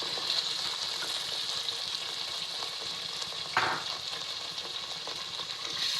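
Ground spices and tomato puree fry in hot oil for a restaurant-style handi chicken, giving a steady close sizzle with a brief sharper burst near the middle and no talk.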